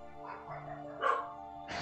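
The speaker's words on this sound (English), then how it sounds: "And my dogs are barking." Dogs bark several times from a modest distance in a quiet room, with short yips in between.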